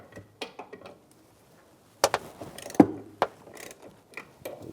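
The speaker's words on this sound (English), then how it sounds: "We're going to take those two nuts off first using a 15mm socket." A ratchet with a 15mm socket loosens the nuts holding a master cylinder on a 2007-2013 Chevrolet Silverado, giving quick bursts of close clicking and sharp metallic knocks separated by short pauses.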